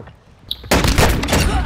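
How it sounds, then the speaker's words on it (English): Gunfire in a Call of Duty: Modern Warfare II team deathmatch, a quiet lead-in with a short metallic ping, then a sudden burst of loud, dense automatic fire and booms right up close. "I'm taking fire!"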